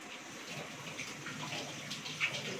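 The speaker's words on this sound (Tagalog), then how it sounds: "Hugas na lang po tayo ng kamay. Para po malinis." Hands are rinsed under running tap water in a kitchen, a steady, fairly faint hiss of flowing water with no talking.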